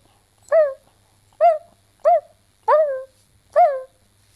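A human voice imitating a puppy crying: five separate high, whining yelps spaced about a second apart, close and clear against a quiet background.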